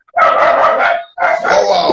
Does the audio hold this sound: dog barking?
yes